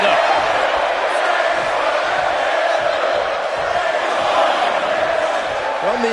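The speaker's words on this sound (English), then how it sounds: "And Bray is revving this crowd up." A video-game wrestling crowd in WWE 2K24 roars steadily throughout a match, a dense, continuous wash of cheering with voices faintly mixed in beneath.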